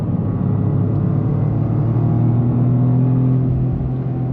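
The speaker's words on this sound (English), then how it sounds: "I like the way the engine sounds though. It's got a unique tone." A Toyota GR Corolla engine pulls steadily under acceleration, giving a loud, continuous rumbling drone with strong low harmonics, heard from inside the car with no talk.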